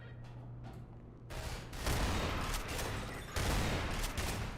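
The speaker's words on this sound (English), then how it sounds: "Shotgun battle!" Shotgun battle in Half-Life 2, with dense bursts of loud gunfire and blasts that come in two heavy waves and fill the scene with harsh, continuous noise.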